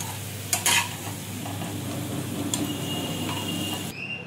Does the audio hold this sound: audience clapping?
no